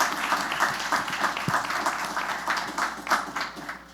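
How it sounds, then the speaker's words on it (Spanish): Applause rises from the audience at a panel on women's political participation, greeting a female councillor with a continuous, moderately loud patter of many hands clapping, plus a few sharper individual claps. "Pido le den un fuerte aplauso a la consejera Zelandia Borges."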